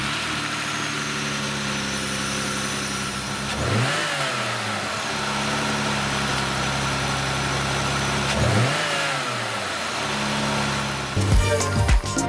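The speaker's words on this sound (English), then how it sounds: "So I'm gonna give you guys one last sound clip with the stock intake." Jeep Gladiator engine breathing through a Magnaflow Rock Crawler exhaust with the stock intake, idling steadily with two sharp revs that rise and fall, loud and close with no talk.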